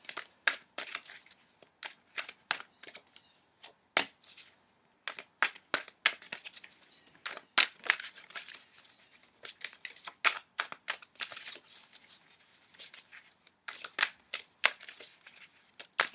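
Tarot cards are shuffled and drawn at close range in crisp, irregular snaps, flutters and riffles, with brief quiet gaps between bursts and no voices.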